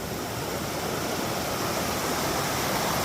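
McFarland Creek rushes in a steady, dense roar of flowing water and small waterfalls, loud and unbroken with no other sounds above it.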